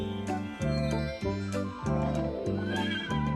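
Horse neighing in a children's song about a knight, several loud whinnies in quick succession with tonal bursts and jingling, no speech.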